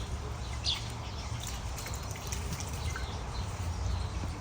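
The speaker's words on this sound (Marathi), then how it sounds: "हात धुवून घेते मी स्वच्छ" Water splashes and drips steadily as hands are washed in a kitchen, a continuous close trickle with small droplet ticks and no speech.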